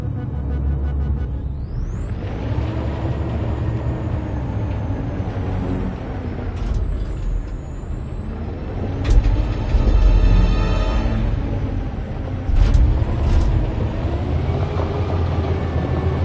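A truck drives in the video game Detroit Become Human, with a loud, steady heavy-engine rumble and a high whine that rises and bends. Louder surges come as it accelerates over about sixteen seconds, with no talking.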